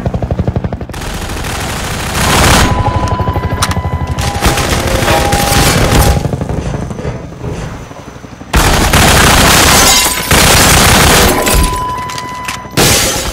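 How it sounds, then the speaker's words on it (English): Half-Life 2 gunfire rattles in loud, rapid automatic bursts with heavy impacts and breaking debris. A brief pause falls in the middle before another sustained, close barrage. "We get our own guns, so let's shoot this stupid thing down! Die!"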